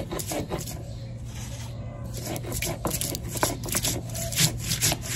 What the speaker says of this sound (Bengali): সরষে পোস্ত কাঁচা লঙ্কা নিয়ে নিয়েছি, সব একসঙ্গে বেটে দেবো